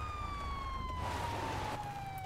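A police car siren wails steadily in a single slowly falling tone, faint and somewhat distant over a low background rumble.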